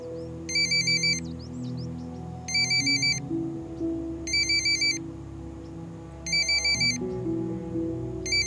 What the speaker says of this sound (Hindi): उठा ले, इस बार खुद सॉरी बोलने के लिए फोन किया होगा।